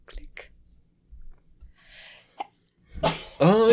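A person sneezes close by: a sharp burst and a few quiet breathy sounds come first, then a loud sneeze and a voice right after it.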